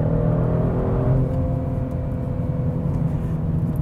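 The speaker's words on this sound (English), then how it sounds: "So now it's shifting lower gears and on the throttle." A 2022 Genesis G70 accelerates under throttle while downshifting, its engine a steady, loud droning whir with a slight change in pitch, heard from inside the car without talk.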